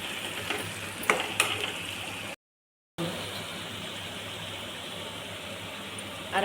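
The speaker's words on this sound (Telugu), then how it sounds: "ఈ 2 కలిపి మళ్ళీ బాగా ఎర్రగా వచ్చేటట్టు వేయించుకోవాలి." Egg and green chillies sizzle in a pan, a steady close frying hiss with a few clinks early on, broken by a short gap of silence before the sizzling continues.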